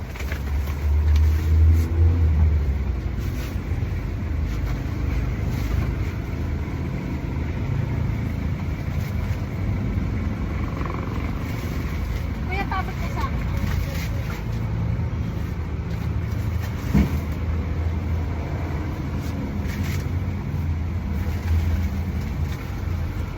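Car interior on a Manila road trip to the Dangwa flower market, with a steady low engine and road rumble throughout and a faint thump near the middle, no talking.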